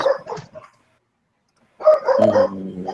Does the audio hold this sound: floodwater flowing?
no